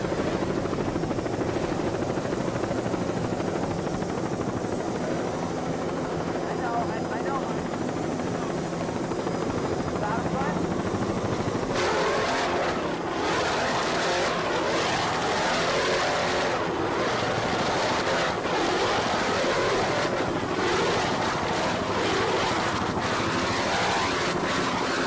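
B-class race boats of the Fever Race Team pound across rough water off Freeport, New York, on the APBA circuit, a continuous loud engine roar and drone filling the whole stretch without speech.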